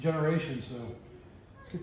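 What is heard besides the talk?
No distinct noise like a dog, phone or traffic.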